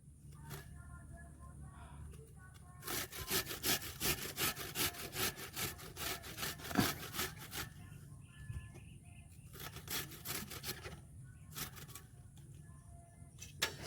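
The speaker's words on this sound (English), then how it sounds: "It's very soft, so it will hardly take any time to grate this." Soft ash gourd being grated by hand makes rhythmic rasping strokes, close and moderately loud, in repeated runs with short pauses, over faint background music.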